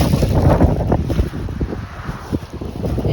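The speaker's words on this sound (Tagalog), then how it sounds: "dahil sa lakas ng hangin, hindi niyo marinig ang boses ko" Strong outdoor wind buffets the microphone in a loud, uneven low roar that surges and eases, with no other clear sound underneath.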